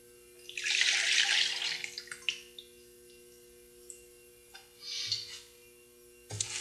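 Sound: ceramic glaze poured back into container

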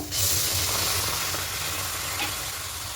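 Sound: water sizzling in hot kadai

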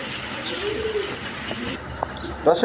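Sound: pigeons cooing at a pigeon market

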